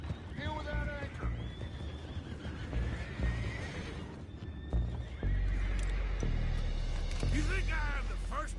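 In Red Dead Redemption 2, horses whinny loudly and hooves clop amid a busy scene, with shouting voices and rushing background noise; whinnies burst near the start and again near the end.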